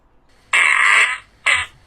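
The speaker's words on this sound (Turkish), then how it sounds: "Osurup kayda mı almış osuruk sesini?" A recorded fart plays back as two short, close bursts: a longer buzzing one of under a second, then a brief second puff.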